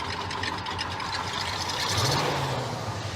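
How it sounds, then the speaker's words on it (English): A 1975 Ford Ranchero engine with a big exhaust leak at the intake manifold runs close by in a rough, steady idle with a ticking, puffing texture and a brief rise in revs midway. "There's a big exhaust leak at the intake manifold."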